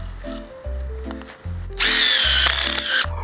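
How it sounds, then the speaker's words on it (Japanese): A Makita GB602W tabletop bench grinder hums as it sharpens a very dull drill bit. Its motor drone pulses as the steel touches the wheel, then a bright, loud grinding hiss rises and holds for over a second. "果たしてこの最悪に切れないビットが切れるようになるのか、これも削ってみたいと思います。"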